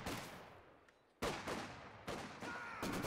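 MG42 machine gun fire from the Company of Heroes 2 strategy game, heard as dense, sustained bursts of automatic fire with sharp onsets, loud and continuous with no talking over it.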